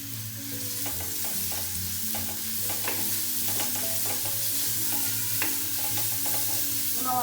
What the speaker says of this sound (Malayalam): നമുക്കിതിലേക്ക് കുറച്ച് ഉപ്പിടാം കേട്ടോ അപ്പോൾ നമുക്ക് വേഗം വരണ്ട് കിട്ടും